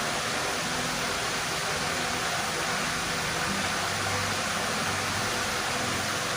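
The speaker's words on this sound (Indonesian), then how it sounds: "Dan yang paling menarik adalah sungainya guys." A river flows beside a restaurant at Kalibatur, Salatiga, making a constant full rush of water that stays even and fills the whole stretch, with no voices.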